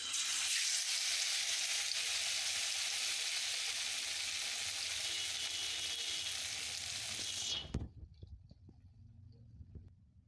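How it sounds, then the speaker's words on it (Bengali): Gram flour battered pumpkin slices frying in hot oil give a loud, steady, close sizzle for most of the stretch, then it drops sharply to a quieter crackle with scattered pops. "এবার আমি একটা একটা করে কুমড়োতে বেসন মাখিয়ে তেলে ছাড়তে থাকবো।"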